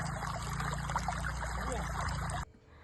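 A small hillside stream in Kerala runs steadily nearby, its continuous rushing and trickling water filling the scene until it cuts off abruptly near the end.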